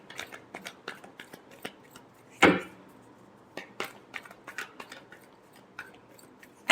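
Tarot cards are shuffled by hand in a quiet room, giving a series of crisp taps and flicks with one louder riffle in the middle and a sharp snap at the end.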